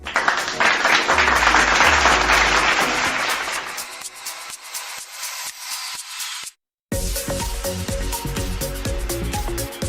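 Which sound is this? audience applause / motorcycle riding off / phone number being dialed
audience applause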